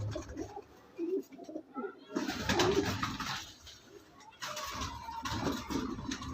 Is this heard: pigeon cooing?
yes